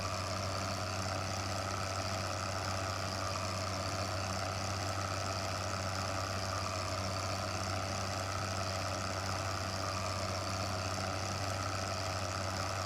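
A tractor engine in Farming Simulator 2015 drones steadily with a low idling hum and a flat, continuous rumble that holds unchanged throughout, with no talk.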